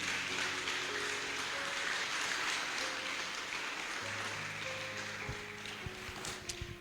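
A church congregation claps steadily and densely from start to finish, a continuous moderate patter that thins slightly toward the end, with faint tonal hum in the background.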